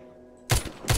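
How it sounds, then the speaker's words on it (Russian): Two sharp, loud gunshot bursts from the zombie shooter game The Walking Zombie 2, about half a second apart, following a quiet stretch. "огнестрельная стрельба"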